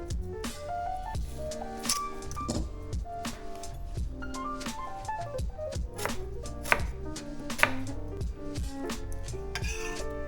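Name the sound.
chopping an onion with a knife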